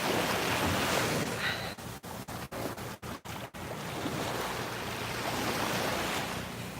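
Ocean waves wash in on a beach with wind, a steady broad roar close to the microphone. A string of brief dropouts cuts through the middle before the surf returns, full and even.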